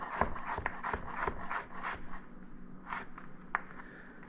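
A knife slices food into fine julienne strips on a cutting board for a sardine almondine dish, giving a quick run of close, crisp rasping strokes with small taps, steady at first and sparser toward the end.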